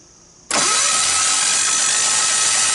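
An old diesel engine, found at a machinery show swap meet, kicks in suddenly after a brief quiet moment and holds a loud, steady, rough running drone close by.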